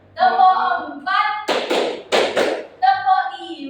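Four quick, loud hand claps in two pairs sound between a woman's counting calls in Indonesian, close and crisp against an otherwise quiet room.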